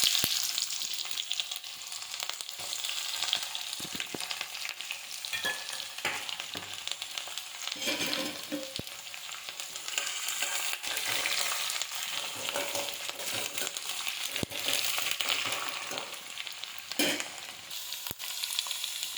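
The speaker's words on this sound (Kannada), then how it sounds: "ಒಂಚೂರು ಜೀರಿಗೆ ಮತ್ತು ಒಂಚೂರು ಅಜ್ವಾನ ಹಾಕಿ ಇದೆಲ್ಲ ಸಿಡಿದಿದ್ದಾದಮೇಲೆ ನೆಕ್ಸ್ಟ್ ನಾವು ಈರುಳ್ಳಿ ಹಾಕ್ಕೋಬೇಕಾಗುತ್ತೆ" Onion frying in oil with cumin and ajwain gives a loud, unbroken sizzle with bursts of crackling and occasional stirring scrapes, lasting throughout without talk.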